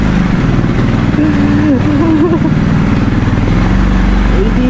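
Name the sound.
motorcycle engine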